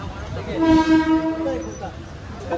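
A crowded local train's horn blares loudly and close for about a second at Ambernath station, a sustained tonal blast over rumbling train noise that then fades.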